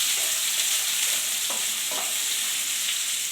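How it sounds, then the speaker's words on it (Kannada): Two onions and greens frying in a pan, an even hiss of sizzling oil with a couple of soft stirring scrapes and no one talking. "ಆನಿಯನು, ಈರುಳ್ಳಿ 2 ಹಾಕ್ಕೊಂಡಿದ್ದೀನಿ. ಹಾಗೆ ಫ್ರೈ ಮಾಡ್ಕೊಳ್ಳಿ."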